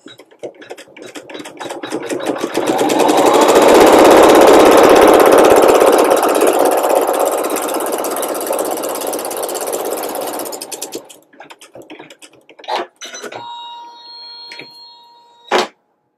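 A sewing machine tacks down a small white fabric daisy appliqué for a quilt block, running in a loud, steady burst for several seconds, then stopping, followed by a few light mechanical clicks and taps.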